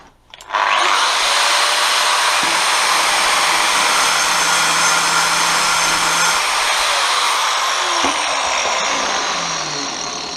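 A loud, steady high-pitched whine of an angle grinder running continuously, near and alone, with a faint pitch drop near the end.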